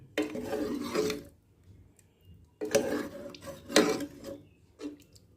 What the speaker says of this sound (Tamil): கோகோனட் மில்க் தேங்காய் பால் போட்டு செஞ்ச சிக்கன் கறி மிக்ஸ் பண்ணுறேன்